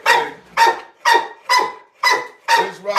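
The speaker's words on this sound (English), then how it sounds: "We got puppies and beagles" A dog barks repeatedly among puppies and beagles, six sharp evenly spaced barks about half a second apart, close and loud, with no talk.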